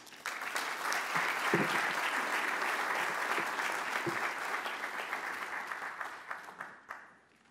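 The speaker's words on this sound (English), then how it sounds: "Round of applause, please." Audience applause at a football confederation champions league draw ceremony, dense crowd clapping rising quickly, holding steady with a few louder individual claps, then fading out at the end.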